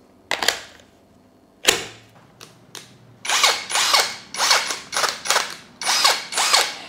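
A Keelat brushless impact wrench is switched on with a few short trigger blips, then runs in a series of loud, close, repeated whirring bursts with brief pauses between them.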